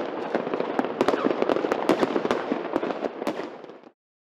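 A dense barrage of fireworks crackles and pops continuously, sharp bangs layered over a roaring burst, then stops abruptly.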